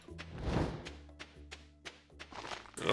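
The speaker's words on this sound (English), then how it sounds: "just heard maybe another truffle got dug up" Soft thunks and thuds from a truffle being dug up in the Stardew Valley video game, several light taps scattered over a quiet game-music background.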